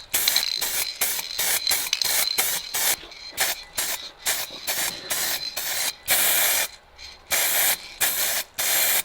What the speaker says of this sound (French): J'amorce vite fait la bombe.